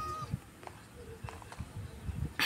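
A Minecraft cat meowing in a video game, several faint short meows scattered over a quiet background.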